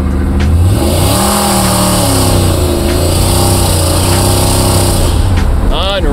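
A supercharged 1956 Chevrolet Bel Air with over 600 horsepower accelerates hard, its engine roaring loud and close and climbing through the gears with clear rises and shifts, while a person speaks over it.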